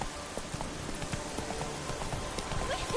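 Hooves of the horse Roach pound in a quick galloping rhythm in a video game, steady and fairly close, over a soft background wash with no talk.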